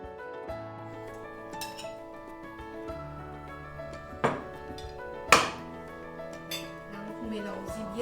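Fried onions stirred in a cooking pot for chicken biryani, with soft metallic clinks and scrapes of a utensil against the pot, a few sharper knocks standing out over low background hum, fairly quiet and close.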